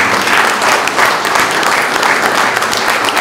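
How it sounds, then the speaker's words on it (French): Sustained audience applause in a meeting hall after a talk by Edwige Diaz at a sovereignty and democracy club event, dense steady clapping from a full room with no speech over it. "donc on peut applaudir Madame"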